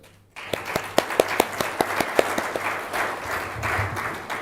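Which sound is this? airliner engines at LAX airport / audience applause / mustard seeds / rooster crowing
audience applause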